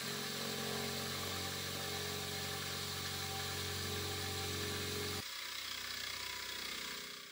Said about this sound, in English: Then I can trim the remaining bit of the bushings with an end mill.